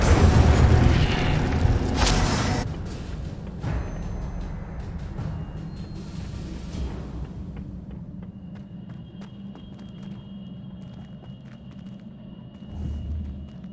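An Incendio fire spell is cast in Hogwarts Legacy, opening with a loud roaring whoosh burst for about two seconds that fades into a low rumble with scattered clicks.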